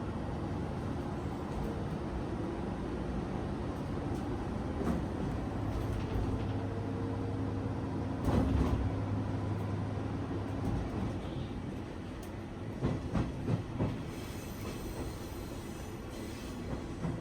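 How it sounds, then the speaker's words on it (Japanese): Train pulling away from a remote mountain switchback station in Japan, a steady low engine rumble with rolling wheel noise, a brief squeal and some clanks partway through, heard from on board. "スイッチバックを終え、次は後ろ向きへ出発します。"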